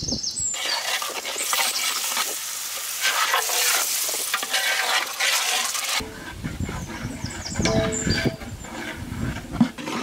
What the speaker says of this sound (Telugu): ఈ మసాలా అంతా 7 నిమిషాలు బాగా వేగాలి.